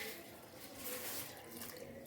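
Water poured from a glass into a cooking pot holding beef, ginger and garlic cloves for a yakhni pulao, a steady close splashing rush lasting the whole moment.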